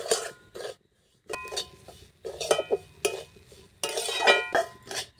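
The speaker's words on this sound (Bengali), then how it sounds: "সুজিটা আমি ভালো করে নাড়িয়ে চাড়িয়ে কিন্তু দেখুন ভেজে নিচ্ছি।" A utensil scrapes and clinks against a pan as dry semolina is stirred and roasted, in irregular bursts of scraping separated by short pauses.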